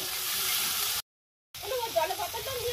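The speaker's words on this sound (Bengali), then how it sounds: "তেলের মধ্যে দিয়ে দিচ্ছি পেঁয়াজ" Chopped onion hitting hot oil in an outdoor riverside cooking setup, a steady frying hiss that cuts out briefly and then returns with crackling, heard under a voice.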